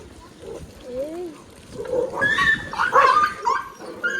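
A dog whines and yelps in short bursts while people talk close by.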